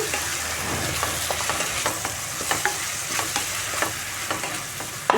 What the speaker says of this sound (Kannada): ಟೊಮೊಟೊ ತೊಗೊಂಡಿದ್ದೀನಿ ರುಬ್ಬಿ ಹಾಕೋತಿದ್ದೀನಿ ಅದು ಚೆನ್ನಾಗಿ ಫ್ರೈ ಮಾಡ್ಕೊಳ್ಳೋಣ